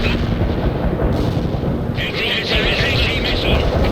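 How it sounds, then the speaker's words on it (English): Heavy artillery fire in the real-time strategy game World in Conflict, a dense continuous rumble of blasts and booms with a hissing layer building partway through, under faint radio chatter. "We're ready with the artillery"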